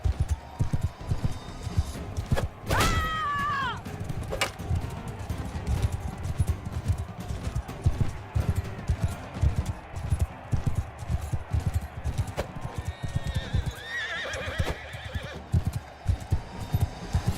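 Horse hooves clatter in a steady gallop in a Bannerlord 2 video game battle, with two sharp neighs breaking through, one early and one near the end.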